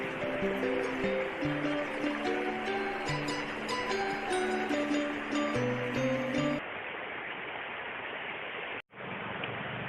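Clear river water flows at Situgunung, Sukabumi, a soft continuous wash that sits under music for most of the stretch, then carries on alone, quiet and steady, after a brief dropout near the end.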